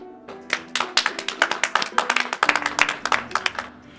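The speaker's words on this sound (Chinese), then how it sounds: "现在我们以热烈的掌声欢迎市教育局的泰斗" Audience applause welcoming an honored senior education official at a school event: a burst of brisk, uneven hand clapping from a group, fairly close, lasting several seconds without speech.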